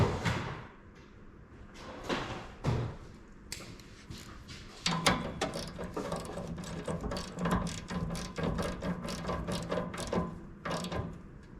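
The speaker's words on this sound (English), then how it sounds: "I'm gonna grab a 1/2-inch socket for the studs there." A ratchet with a 1/2-inch socket turns the studs on a riding mower's solenoid. Scattered clicks and handling noises come first, then a long run of quick, steady ratchet clicks close by.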